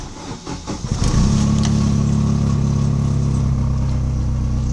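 A Chevrolet Vectra GT sedan engine with an open exhaust cranks for about a second, catches, and settles into a loud, steady, throaty idle close by.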